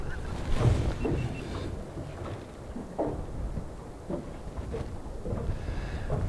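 Strong wind buffets a fishing boat out chasing snapper in rough, wet conditions, a steady broadband roar with gusty low rumble and microphone buffeting throughout, with no talk.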